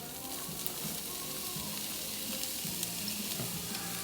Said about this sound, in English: You can go ahead and start sauteing your onions.